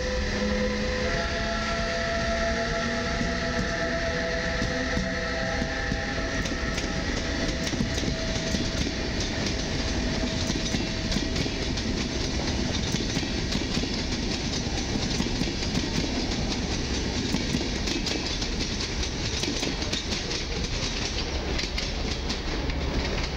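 A locomotive-hauled passenger train departing Warszawa Zachodnia, a PESA Gama locomotive, with a low steady rumble, rhythmic clacking of wheels on rail joints and tonal engine hum, continuous throughout.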